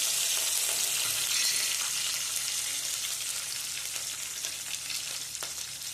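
Curry leaves sizzle in hot oil as a tempering for patra, giving a steady, close, loud hiss that holds evenly throughout with no talking.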